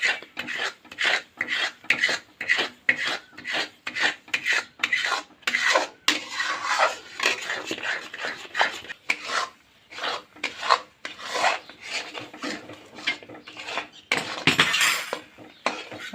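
Bombay halwa stirred in a pan at home, a close, rhythmic scraping and rubbing of a spoon against the pan bottom, repeated strokes roughly twice a second throughout with no talking.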